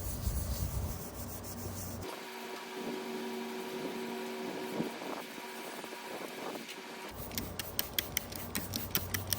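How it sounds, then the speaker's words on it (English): An abrasive pad rubbing PPG metal prep solution into a metal surface, a steady wet scrubbing hiss with faint rhythmic strokes, flanked by sharper ticking scrapes at the start and end. "Use a abrasive pad and rub it in."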